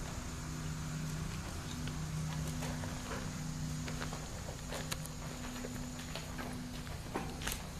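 Horse cantering over two ground rails, steady rhythmic hoofbeats on soft ground heard at a moderate distance over a constant background hum, with a few sharper knocks.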